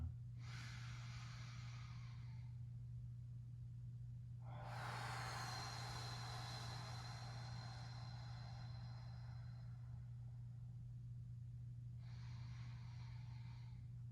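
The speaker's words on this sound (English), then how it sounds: "Inhaling longer. Exhaling longer." Slow, deep breathing in long drawn-out phases, each breath lasting several seconds with pauses between, close and steady over a constant low hum.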